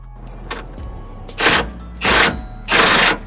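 Socket wrench tightening an 18mm bolt on a Jeep front track bar, three loud close bursts of ratcheting clicks separated by short pauses, following quieter handling knocks.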